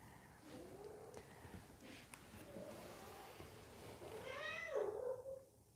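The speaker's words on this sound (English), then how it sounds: "Kitty's here." A house cat named Mishka purrs softly and steadily at close range, then gives a short rising meow near the end, in a quiet room with faint background hiss.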